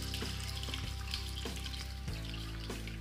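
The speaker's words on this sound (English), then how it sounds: "pour the liquid and the solids into the sieve." Liquid and solid chili pepper mash for a lacto-fermented Tabasco-style hot sauce poured into a sieve set over a large bowl, a steady continuous splashing pour with soft plops of pulp, close and alone.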